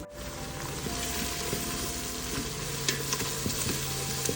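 Steady close-up sizzling of vegetables sautéing with salt and coriander powder in a hot pan, with occasional soft clicks and scrapes of stirring throughout.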